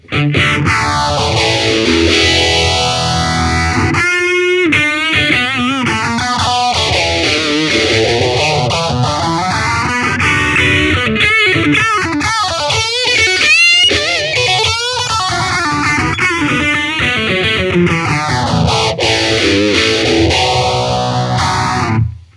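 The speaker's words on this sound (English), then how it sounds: "70s, 80s orange phaser pedal with just one knob on it." A UAD Phase X90 phaser pedal, modelled on a one-knob orange 70s–80s phaser, sweeps a loud electric guitar in slow, regular whooshing cycles, with strummed chords throughout and no talking.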